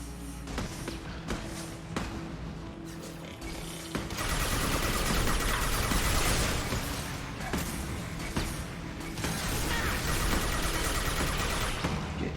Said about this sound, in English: We can assume control of overriding turrets. Okay, let's get a couple of turrets going.